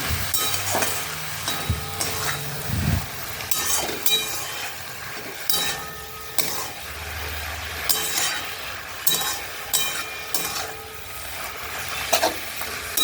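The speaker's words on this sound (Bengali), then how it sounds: "এবার এটা নেড়ে নিলাম" A spoon stirs jute leaf curry seasoned with salt and turmeric in a pan, scraping and clinking against the metal over a gentle sizzle in repeated close strokes throughout, with no voices.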